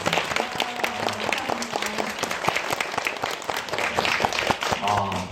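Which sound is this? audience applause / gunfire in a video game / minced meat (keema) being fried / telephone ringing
audience applause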